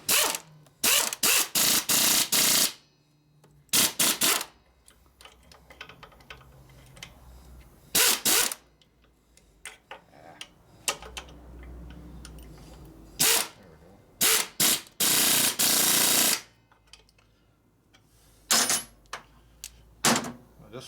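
Pneumatic air tool rated at 170 foot-pounds of torque at 90 psi driving nuts on a 1972 Harley-Davidson Sportster Ironhead engine during a case repair and rebuild, loud close rattling bursts of a second or two, separated by quiet pauses and occasional talking.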